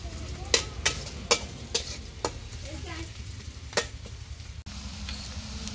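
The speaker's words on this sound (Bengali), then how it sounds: "পেঁয়াজ রসুন খুব ভালোভাবে ভেজে নিব" Chopped onion and garlic sizzle in hot oil for a chicken and bottle gourd curry, a steady fry broken by sharp stirring clacks of a spoon against the pan, with no talking.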